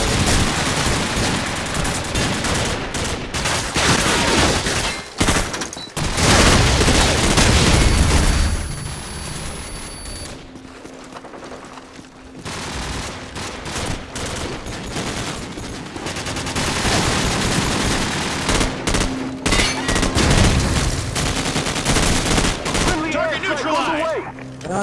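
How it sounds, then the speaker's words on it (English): Gunfire in Call of Duty 4, shots aimed at a building, comes as dense bursts and fusillades with booming hits, loud and close for most of the stretch, with players talking over parts of it. "I'm gonna shoot our building"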